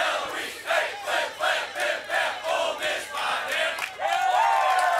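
A large stadium crowd at a college football game chants in loud rhythmic bursts, then swells into a sustained excited roar near the end.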